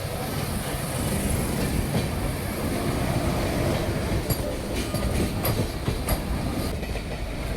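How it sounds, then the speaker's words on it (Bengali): A Vande Bharat Express train rumbles past close by near Bardhaman with a continuous heavy roar and rhythmic clacking of wheels over the rails, steady throughout. "এই দেখো বন্ধুরা, বন্দে ভারত এক্সপ্রেস বর্ধমানের উপর দিয়ে হাওড়ার দিকে যাচ্ছে"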